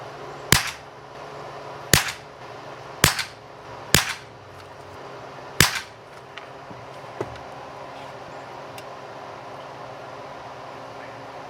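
A Winchester 1977 air rifle fires Winchester Round Nose pellets in five sharp, loud shots spaced about a second apart, followed by a faint sixth click and quiet background.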